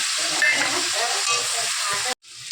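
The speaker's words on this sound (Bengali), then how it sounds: "মশলা দিয়ে দিয়েছি, এবার কষিয়ে নেব" Potatoes and pointed gourd stir-fried with spices in a pan give a steady, close hiss of sizzling with scraping stir strokes, breaking off abruptly near the end before a brief faint return.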